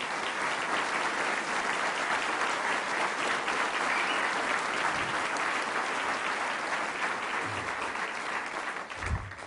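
Sustained applause from a civic audience honoring a council member at a State of the City address, dense and steady for several seconds before tapering off near the end.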